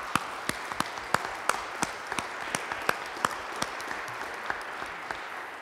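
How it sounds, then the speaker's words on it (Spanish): Church congregation applauding the fathers at a Father's Day Mass in a Carson City, Nevada parish: a soft bed of clapping with distinct individual claps cracking out loudly at irregular intervals, steady from start to finish. "Un aplauso para ellos."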